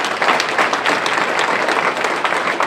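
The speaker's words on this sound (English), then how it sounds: "we want to have a round of applause for Columbia Gas" An audience applauds at a county Black History Month business breakfast and scholarship recognition event, dense steady clapping from many hands sustained at even loudness for a few seconds with no talk over it.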